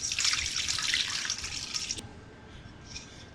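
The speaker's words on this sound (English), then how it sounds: "So the chilies go into a bowl, and then we're going to pour some water on top." Water poured into a bowl of dried chilies in a kitchen, a steady splashing trickle for about two seconds that stops abruptly, followed by a few faint drips.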